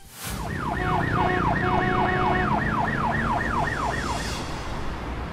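An ambulance siren wails in fast, repeating up-and-down sweeps, loud and close, over a steady rumble of traffic.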